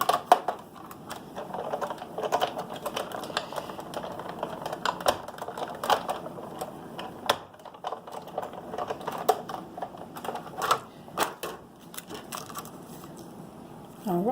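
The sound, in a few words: Big Shot die-cutting machine cutting paper with framelits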